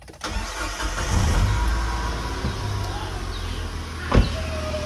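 A used car with well over a lakh on the odometer cranks and fires up with its bonnet open, then settles into a steady, close idle, with a sharp clunk near the end.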